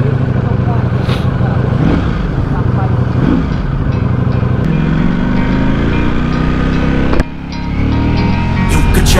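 A Ducati V4S motorcycle on stock exhaust, before a new muffler is fitted, idles and revs steadily up close, a continuous rumbling engine note with a brief dip near the end.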